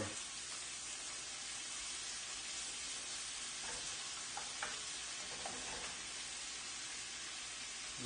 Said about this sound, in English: I'm going to break up all the onions a little